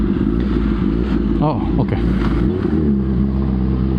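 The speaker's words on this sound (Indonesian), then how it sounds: "Taunya ada juga mobil sama motor." Car and motorcycle engines passing on a road, a steady loud drone with a rising rev in the middle, heard under continuous talking.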